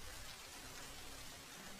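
Rain falls on a poor family's hut, a steady, dense patter that stays even and unbroken throughout, with no voices.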